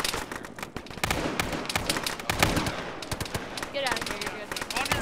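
Rapid, loud gunfire crackles in bursts and single shots throughout a firefight in the video game Arma 3, with a voice briefly speaking amid the shooting.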